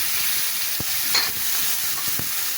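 Raw green banana and potato pieces tossed into oil with fried cumin and nigella seeds for a fish curry, giving a steady, loud, dense sizzle with a couple of soft knocks as the pieces are stirred.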